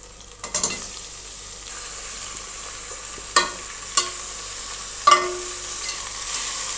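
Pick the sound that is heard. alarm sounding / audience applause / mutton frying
mutton frying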